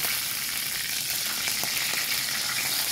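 Food sizzling steadily in a pan as it is reheated for a home-cooked breakfast, a continuous bright frying hiss with a few faint stirring clicks, close and without talk.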